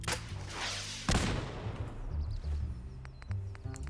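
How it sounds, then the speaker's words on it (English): Mini rocket launcher in Fallout 4 firing small rockets: a sharp launch burst near the start, then a loud blast around the one-second mark with a rumbling tail, followed by scattered lighter clicks and thuds. "So this one's like a mini rocket launcher."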